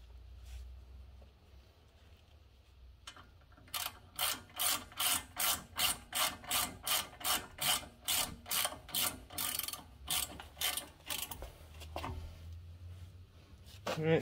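A hand ratchet tightens the mounting bolts of a cheap four-piston Brembo brake caliper on a BMW E36, a steady run of about twenty sharp, evenly spaced clicks, close and clear with no talking.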